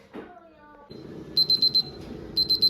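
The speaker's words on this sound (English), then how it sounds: "our timer is going off. We've reached 86 degrees" A digital thermometer timer beeps when it reaches its 86-degree target while cheddar cheese is being made: loud, high-pitched electronic beeps in a burst of four, a short pause, then three more, after a brief tonal sound.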